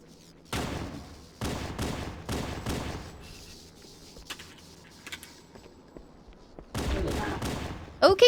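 Pistol gunfire in the video game Halo CE, several loud bursts of shots in quick sequence near the start and again near the end, with quieter game sounds and talk in between.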